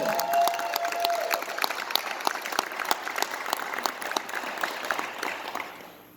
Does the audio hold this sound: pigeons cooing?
no